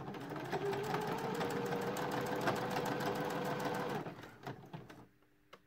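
A sewing machine top-stitches around the edge of a fabric carrot costume, a close, steady whirring stitch run for about four seconds before it stops, leaving faint handling noises.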